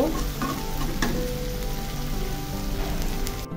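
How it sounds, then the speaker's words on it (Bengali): Bottle gourd peel fries in a pan over medium heat, with a steady, loud, rain-like sizzle that runs throughout. "চুলার আঁচটা মিডিয়ামে রেখে আমি আরও 3-4 মিনিট লাউয়ের খোসাটা ভেজে নিব"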